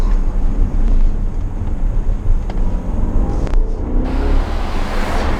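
A 2018 Porsche Cayenne Turbo SUV driven hard, a loud, dense engine and road roar that surges and stays heavy throughout, with a brief dip partway through and no voices.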